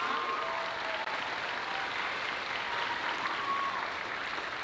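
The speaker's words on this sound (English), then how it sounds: "Can we give one more big round of applause to Hallie Colliboy-Whitmire on the piano?" A concert audience at a high school choral arts performance applauds the pianist, a steady, soft wash of many hands clapping from across the hall, continuous and even throughout.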